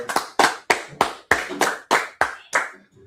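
A group claps together in a slow, even rhythm, about eight sharp, loud, close claps spaced evenly apart, with a quieter last beat as the clapping stops.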